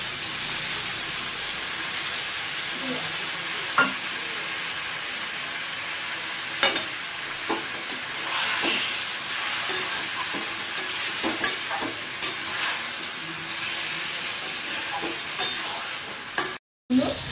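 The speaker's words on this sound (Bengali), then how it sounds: "আমি একটু অল্প করে জল দিচ্ছি এবার।" Mutton kosha sizzles loudly in a pan as a little water goes in, with hissing steam and repeated spatula scrapes and knocks at an uneven pace, ending with a sudden brief cut.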